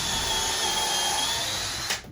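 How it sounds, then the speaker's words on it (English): A Craftsman cordless drill whines steadily at close range while boring holes, a sustained high-pitched motor tone that cuts off sharply near the end. "to drill holes fairly well."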